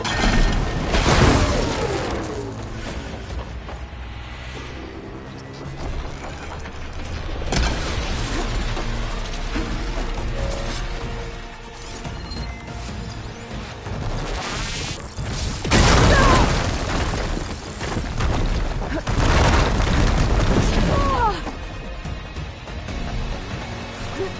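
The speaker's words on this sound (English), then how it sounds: "Fire barrage!" Fire barrage attack in the video game Horizon Forbidden West, a series of loud booming blasts and crashes with mechanical clatter between them, coming in heavy bursts over a rumbling background.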